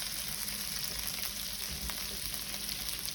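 Eggs and macaroni frying together in a pan give a steady, fairly quiet sizzle with no talk.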